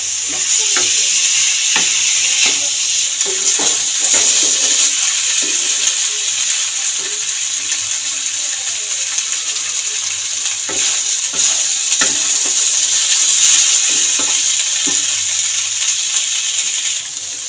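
Spice masala with fig and potatoes cooks in a pan, giving a loud, continuous bright sizzle broken by frequent spatula scrapes and clinks against the metal, up close, with no talking.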